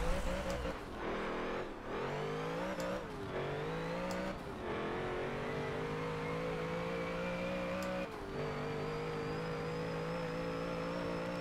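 A 1000hp drag car in Forza 7 accelerates hard, its engine note climbing steadily and dropping briefly at a few gear shifts before pulling strongly again in sixth gear, loud and continuous.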